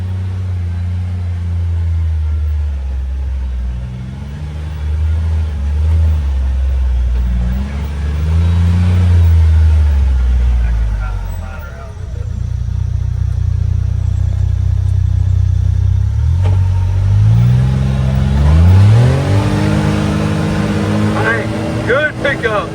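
A 2025 CFMOTO U10 PRO side-by-side with an Omni Drive clutch accelerating on a short ride, its engine rising and falling in pitch as it pulls, loud and close, with people talking over it.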